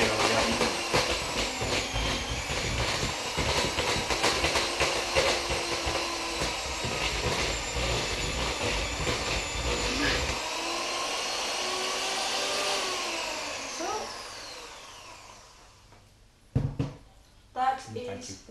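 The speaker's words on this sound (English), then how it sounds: "we're gonna get our electric mixer, or a spoon if you prefer, and we are going to be softening butter till it's all very nice and fluffy and soft" An electric mixer beats softened butter for shortbread, giving a loud, steady motor whine close by for most of the stretch, its pitch sliding as it winds down near the end, followed by a few knocks.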